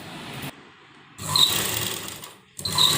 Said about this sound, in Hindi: इस तरह से ये डबल सिलाई हमें इसके ऊपर भी करनी है।